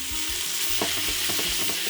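Beef liver pan-searing with onions and peppers, a loud, close sizzle with repeated scraping stirs of a utensil against the pan throughout.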